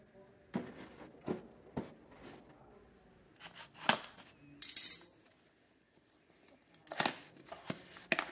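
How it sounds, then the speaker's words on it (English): Scissors cutting through packaging while unboxing a Beyblade X Xtreme stadium: a series of sharp, separate snips and crinkly tears, close and bright, scattered irregularly with quiet gaps between them. "Scissors."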